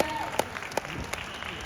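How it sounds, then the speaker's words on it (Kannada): Audience clapping at a Kannada celebration event in Singapore for actors Haripriya and Vasishta Simha, a short burst of steady applause with a few sharper claps standing out, fairly faint and diffuse as from a crowd in a hall. "ಜೋರು ಚಪ್ಪಾಳೆ ಬರಲಿ ಹರಿಪ್ರಿಯ ಅವರಿಗೆ ಹಾಗೂ ವಸಿಷ್ಠ ಸಿಂಹ ಅವರಿಗೆ ಸ್ನೇಹಿತರೆ"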